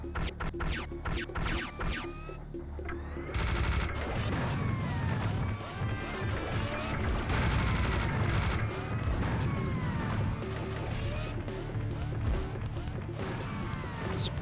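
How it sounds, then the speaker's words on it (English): Grenade launcher blasts in Serious Sam: The First Encounter, a run of heavy thuds and crashing explosions mixed with game sounds and music, moderately loud. "This grenade launcher's really fun."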